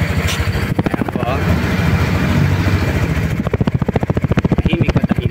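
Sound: Honda Click 125i scooter engine idling, quiet exhaust

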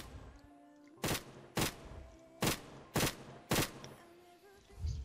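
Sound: gunfire from a Roblox battle royale video game

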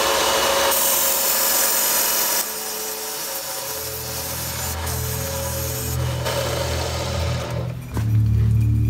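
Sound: polishing bicycle metal tubing before TIG welding

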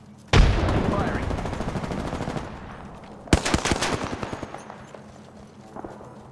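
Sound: R-99 gun firing in Apex video game

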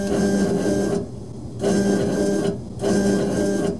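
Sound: K40 Chinese laser engraver cutting aluminum foil

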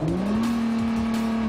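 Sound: Nissan GT-R accelerating hard on airstrip

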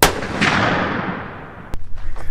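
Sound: gunshot while sighting in a rifle

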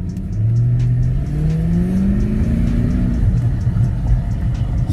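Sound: Infiniti test drive with scrubbing wheel bearing noise

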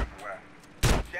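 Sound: gunfire from a video game gun, minigun or shotgun

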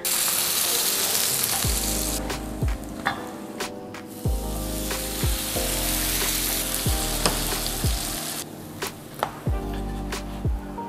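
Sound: garlic bread being toasted

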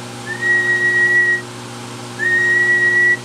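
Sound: whistling into the microphone

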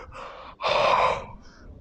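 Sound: voice imitating a black leopard's roar

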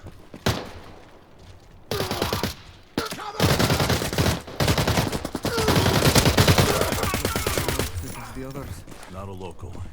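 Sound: gunfire in video game Arena Breakout

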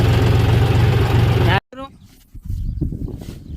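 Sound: tractor engine running, tractor stuck in field

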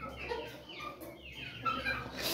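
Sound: chickens clucking

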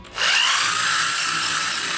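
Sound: drill spinning a cardboard and sandpaper disc, sanding

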